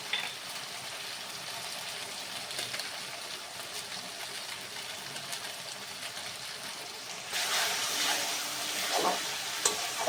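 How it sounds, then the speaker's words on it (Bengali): Ground cumin, coriander and turmeric with Kashmiri chili powder fry steadily in oil, a dense continuous sizzle with soft scraping stirs, growing louder and busier toward the end. "এইভাবে কিন্তু মশলাগুলো বেশ কিছুক্ষণ ধরে আরও নেড়ে চেড়ে নেব, যাতে তেলটা বেরিয়ে আসে"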